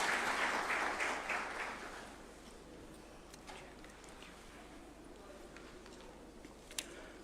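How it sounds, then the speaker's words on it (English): Audience applause greets a judge approaching the arena at a State House swearing-in ceremony in Nairobi, a dense roar of clapping that swells at first, then thins into scattered claps before fading out. "A round of applause, please, as he approaches the swearing-in arena"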